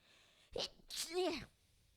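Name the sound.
sneeze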